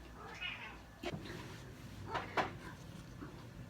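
Cat meowing indoors, a few faint, short meows spread through the clip alongside soft thumps and handling noises.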